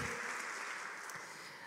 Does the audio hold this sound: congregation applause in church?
yes